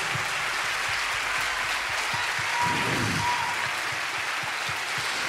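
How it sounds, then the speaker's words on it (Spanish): Studio audience applause for a contestant's dress on a Spanish dating show, steady dense clapping throughout with a brief low swell in the middle. "Por favor, un fuerte aplauso para el vestido de Tamara."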